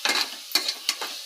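Tomatoes cooking in a pan for vegetable biryani, heard as three or four quick close stirring scrapes with a light sizzle in just over a second, no talk.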